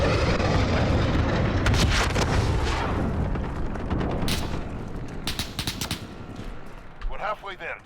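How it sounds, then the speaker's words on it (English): Loud, continuous combat din of explosions and gunfire from an enemy cruise missile strike in Call of Duty: Modern Warfare, with dense booms throughout and sharp bursts near the end. "Enemy cruise missile incoming."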